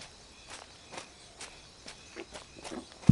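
Soft, regular footfalls of someone jogging through vegetation while tracking rabbits, about seven light steps at an even pace, faint and close, with insects chirring faintly behind.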